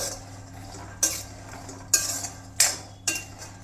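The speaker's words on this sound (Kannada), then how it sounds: "ಕೆಂಪಾಗಿ ಚಟಪಟ ಅಂತ ಆವಾಜ್ ಬರ್ತೈತಿ" Peanuts roasting in a pan for shenga holige, a sweet flatbread: four sharp clattering scrapes and taps come at roughly half-second to one-second gaps over a low steady hum, with no talking.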